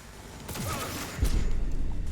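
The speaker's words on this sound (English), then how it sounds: "Shotgun." A shotgun fires in the video game Cyberpunk, a heavy booming blast that swells from a muffled rumble into a loud, sustained burst, with no talk over it.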